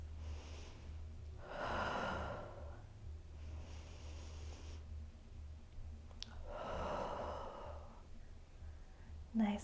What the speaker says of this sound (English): Take 2 breaths.